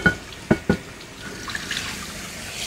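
Tap water runs onto a Panasonic Toughbook CF-31 MK5 rugged laptop in a water test, a soft splashing trickle after a few sharp knocks and handling clicks, with no talking.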